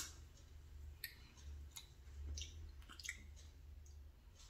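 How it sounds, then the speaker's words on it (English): Crunchy donut being chewed up close, several faint crisp crunches and clicks scattered over a low hum, with no talking. "it's got a good crunch to it"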